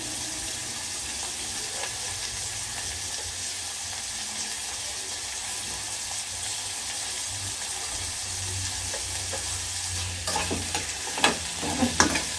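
Green onions stir-fried in a pan give a continuous soft sizzle, and a few louder scrapes and clinks near the end come from stirring, with no talking.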